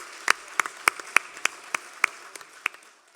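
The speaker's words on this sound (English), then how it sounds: "Let's give them one more round of applause for that performance." Audience applause for a group of girl singers at a Polish-Irish festival in Kilkenny: a string of sharp, evenly spaced claps rings out clearly for about three seconds before tapering off.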